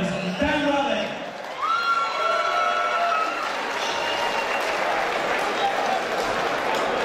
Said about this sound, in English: Can I please have a round of applause for the man who called out this monster, please?